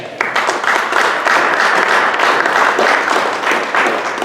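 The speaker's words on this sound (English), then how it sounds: "Love the golf clap" Light, polite golf clap from a training-session audience, a soft even patter of scattered hands that holds steady throughout without cheering.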